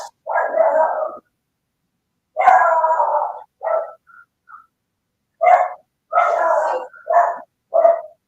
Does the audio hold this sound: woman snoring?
no